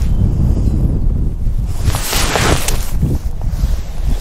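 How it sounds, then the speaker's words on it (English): Gusts of wind buffet the microphone on a golf course, a loud, rumbling roar that swells in the middle and keeps churning throughout, with no talking heard. "A lot of wind."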